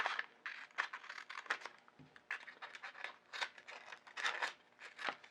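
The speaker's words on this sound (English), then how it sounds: "I'm just going to cut around my extras here" Scissors snipping around scrap vinyl pieces, a quick run of close, crisp cuts with a steady rhythm and short pauses, no talking.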